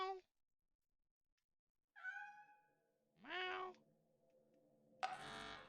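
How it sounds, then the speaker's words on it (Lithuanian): Cat meowing inside the modded video game Lethal Company: a few separate, clear tonal meows, each a short rising-and-falling cry, with gaps of near silence between them and a louder burst at the end. "Gal aš girdžiu katiną."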